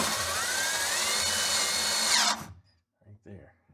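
A power drill drives a 2.5 inch screw into a 2x4, a loud continuous whirring that rises slightly as the screw seats, then cuts off sharply, followed by brief faint knocks.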